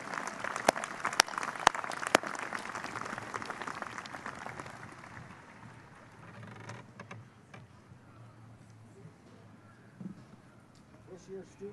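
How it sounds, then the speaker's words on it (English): Applause from a commencement audience honoring award recipients, strong at first then fading to scattered claps, with some talk and crowd noise underneath. "Please give them a round of applause."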